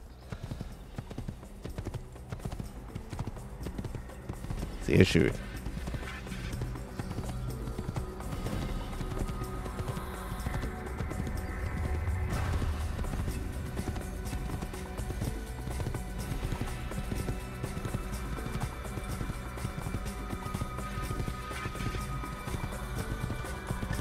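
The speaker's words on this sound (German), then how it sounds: "jetzt müssen wir hier den ganzen Weg wieder runterreiten" Horse hooves clip-clop at a steady gallop in an Assassin's Creed game, a continuous rhythmic drumming running throughout with a sharp thud early on, while someone speaks briefly.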